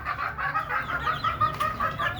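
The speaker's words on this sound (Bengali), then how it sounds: "এই যে দেখেন দেশি মুরগি আমার, এগুলা সবগুলা ডিম পাড়া রানিং মুরগি।" Native desi laying hens clucking in a backyard flock, a close, continuous run of soft, repeated clucks and murmurs from several birds with no talk.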